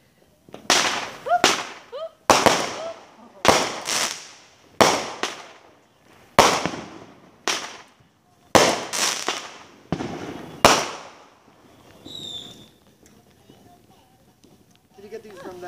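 Fireworks go off in a steady series of about a dozen sharp, loud bangs, each followed by a brief crackling decay, before fading into quieter distant pops, with voices faintly audible underneath.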